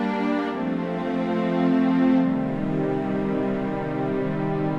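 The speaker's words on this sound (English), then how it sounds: "I'm starting with these strings. I'm gonna do that same chord progression I had," Smooth synth strings play sustained chords that shift slowly from one to the next, rich and even in volume with no voices.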